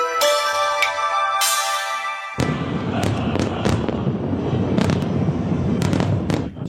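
Fireworks burst over Hong Kong on the October 1 national holiday. A dense, continuous crackle of popping explosions rises after a brief tonal, music-like opening and stays loud to the end.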